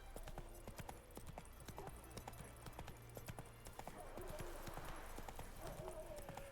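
Roach, a horse in The Witcher 3 video game, gallops along a road with rapid, rhythmic clip-clop hoofbeats throughout, joined by a brief whinny-like call near the end.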